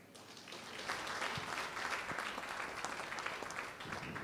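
Steady audience applause at a corporate award ceremony honouring SCG-RE's director general, rising after a brief quiet start into dense, even clapping that continues throughout.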